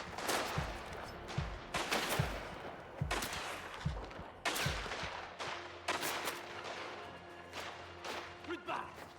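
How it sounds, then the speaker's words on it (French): Loud bursts of gunfire ring out in the video game Mafia: The Old Country, with repeated shots and rattling volleys in uneven bursts while people talk over the shooting. "Il y en a un qui me tire dessus, je vois pas qui c'est."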